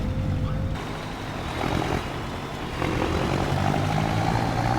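An old tractor engine with a whistling turbo in Farming Simulator 25 drones continuously at moderate level, its rumbling note with a faint high whistle shifting slightly as it drives.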